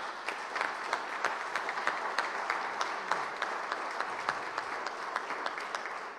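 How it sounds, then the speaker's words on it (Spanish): An audience at an international forum and awards ceremony applauds for a doctor, a sustained, even round of many hands clapping with distinct sharp claps standing out, moderately distant and steady throughout. "Yo quiero pedirle un fuerte aplauso para el doctor Johnny Torres"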